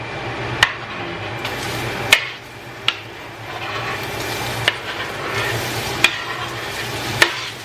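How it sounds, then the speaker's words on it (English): Cleaned, peeled zucchini sautés in a little olive oil over medium heat, a low continuous frying hiss broken every second or so by sharp clacks of a utensil stirring against the pan. "I'm going to go ahead and saute it in a little bit of olive oil."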